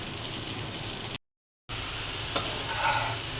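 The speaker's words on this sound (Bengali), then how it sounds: "আর তো তিতা করলাও ভেজে নিচ্ছি।" Bitter gourd fries in a pan with a steady close sizzle and hiss, broken by a brief gap of silence, then continuing with a few soft clinks and bubbling.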